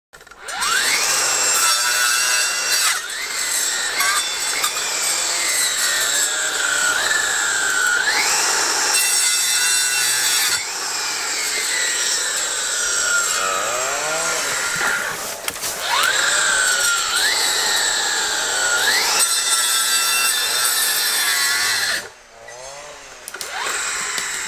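Husqvarna 535 iFR battery clearing saw cutting through wood, a loud whining motor that rises and falls in pitch with each cut, running nearly nonstop with brief dips between passes.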